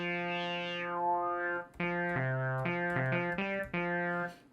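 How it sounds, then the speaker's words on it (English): Synthesizer notes with the filter cutoff being modulated, a sustained tone sweeping down and back up, then a run of short notes in an uneven rhythm, loud and alone. "now you can hear the modulation now with the filter"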